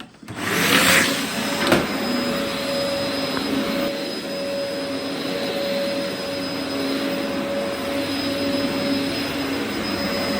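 A Dyson DC04 vacuum cleaner switches on and settles into a loud, steady whirring roar with a constant high whine, running alone and close for the whole stretch.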